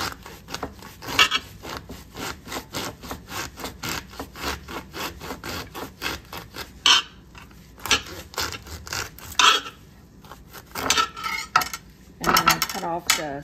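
A serrated knife saws off the top of an artichoke in rapid back-and-forth rasping strokes, close and rhythmic, pausing now and then with a few clunks against the board.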